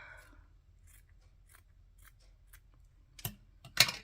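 Scissors snip paper for a junk journal page: two short, crisp cuts close by near the end, after quiet handling rustles.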